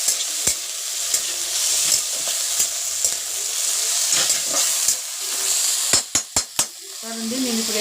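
Chicken curry is stirred in a sizzling pan: a steady frying hiss under repeated scraping strokes, then a quick run of sharp clinks near the end, followed by a brief voice.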